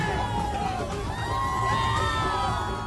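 A crowd that has been waiting for hours for Modi at an election event in Gujarat cheers and shouts, a steady dense roar of many voices with higher whoops and yells rising throughout.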